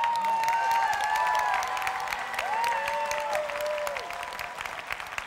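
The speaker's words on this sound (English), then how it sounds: "Clap your hands, all ye people." A church congregation claps hands in sustained, dense applause with some cheering and sung or shouted voices riding over it, steady at moderate loudness throughout.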